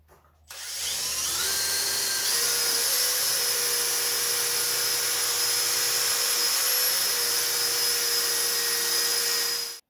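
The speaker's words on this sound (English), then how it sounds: "So I'm just going to keep sanding it until we get a nice smooth finish." After a short silence, a power sander starts up on a metal Honda spark plug wire cover and whines continuously at a steady high pitch, loud and close, rising slightly in tone partway through.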